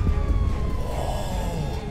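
A police car siren sounds in the video game GTA 5, a wailing tone sweeping steadily over a loud engine rumble at moderate distance, with no talking.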